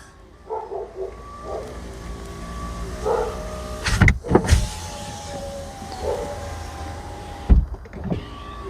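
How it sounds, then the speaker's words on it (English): Driver-side power window motor on a Chevrolet Silverado whirring as the window closes, with short electronic chimes around it, a couple of sharp thumps as the glass seats, and a later clunk, close and clear without speech. "Tire monitor open, then close driver window."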